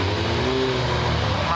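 Billy's motorbike engine running steadily on a two-mile runway, a continuous drone with a brief rising whine, picked up over strong wind noise.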